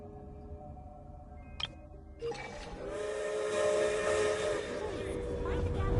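A steam train whistle at a station in a video game gives a brief toot, then a long sustained hissing blast that holds steady over a low rumbling background.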